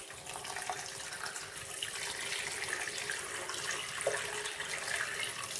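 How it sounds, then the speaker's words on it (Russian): Cold boiled water pours from a tap over chicken and pork in a pot to make a brine for hot smoking, a steady, continuous rushing stream heard close and alone without talk. "заливаем холодной водой."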